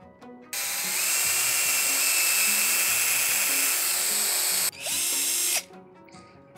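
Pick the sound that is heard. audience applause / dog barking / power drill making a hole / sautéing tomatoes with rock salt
power drill making a hole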